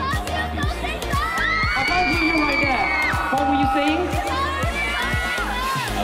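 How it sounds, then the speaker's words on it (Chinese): A crowd of fans at an event for a singer in Malaysia screams and cheers loudly and continuously, with shrill, rising shrieks and voices talking over the din. "现场粉丝们十分热情，尖叫连连"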